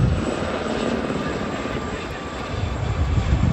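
Gazelle helicopters and Team Raven display aircraft flying at the International Ayr Show Festival of Flight 2023 in Ayr, Scotland: a continuous broad engine and rotor roar, steady and fairly loud, swelling slightly toward the end.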